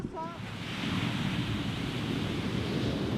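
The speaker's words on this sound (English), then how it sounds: "The wind is unusually strong and the boat can hardly make any headway." Strong wind roars around a rowing boat at sea, with waves surging beneath it. The noise is a loud, steady, broadband rush that swells early and holds.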